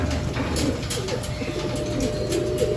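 Pigeons cooing in a loft, repeated soft throaty coos overlapping one another at close range, with faint bird rustling and no talk.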